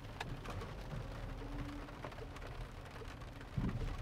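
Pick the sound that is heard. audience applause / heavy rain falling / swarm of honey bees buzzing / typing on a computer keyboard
heavy rain falling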